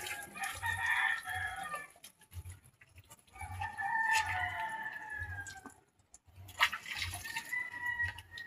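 A rooster named Barako gives clucks and short crowing calls while being bathed under a tap. The calls come in several bursts with short pauses between them, and low water or handling noise runs underneath.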